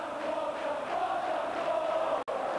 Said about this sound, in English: it must be some consolation to hear the home crowd chanting his name